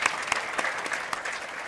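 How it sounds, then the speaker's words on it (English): Audience applause for a speaker at a talk session, a steady wash of clapping with a few sharper individual claps standing out, moderately loud and continuous. "We have a round of applause for Tara,"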